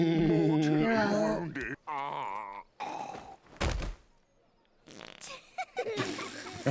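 Cartoon farts in an animated fantasy show, a string of loud, wet, pitch-wobbling blasts with a heavy thump partway through, separated by short pauses and mixed with groaning voices.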